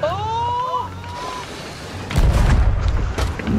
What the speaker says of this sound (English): Get to the cannons. Get to the cannons.